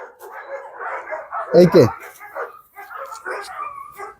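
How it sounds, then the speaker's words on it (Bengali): At a large dog farm keeping German Shepherds and Italian Mastiffs, a dog gives two loud, close barks mid-clip, set between stretches of people talking. "অনেক কুকুর আছে।"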